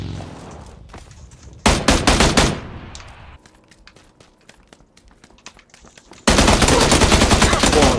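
Gunfire in the battle royale game PUBG comes in two loud bursts of rapid automatic shots, the second running on to the end, with scattered single shots and shuffling between them.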